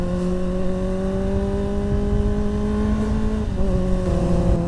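A motorbike engine drones steadily on a road ride to a campus, its tone dipping briefly partway through before pulling on again, loud and close with no talk.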